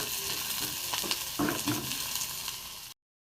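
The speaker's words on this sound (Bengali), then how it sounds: "একটু ভাজা হোক।" Chopped garlic and onion sizzle in hot oil in a pan as a batter-fried egg chop is prepared, a steady close frying hiss with a few stirring scrapes before it cuts off abruptly.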